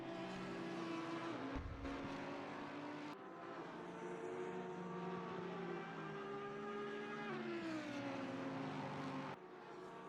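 Race cars lapping the Nürburgring in a 6-hour endurance event, engines droning loud and steady through the approach to the chicane and last corner, with pitch rising and falling through shifts and a brief low thump near the start.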